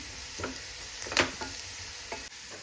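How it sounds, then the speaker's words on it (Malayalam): Onions sautéing in a pan for spicy chicken curry, a soft steady sizzle with a few scraping stirs of a spoon, quiet and close with no talking. "കുറച്ചും കൂടി ഗോൾഡാകുന്ന രീതിയിൽ ഒന്ന് വഴറ്റിയെടുക്കാം"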